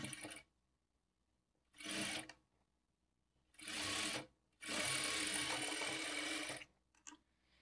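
Sewing machine stitching a blouse seam, running in four close bursts of steady mechanical whirring, the longest about two seconds, separated by pauses.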